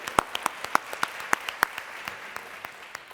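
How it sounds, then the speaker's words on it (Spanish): A small audience claps at a medical cannabis congress, about a dozen distinct claps in a loose rhythm, strongest early and thinning out toward the end. "un aplauso para Marisa Ibarra, por favor"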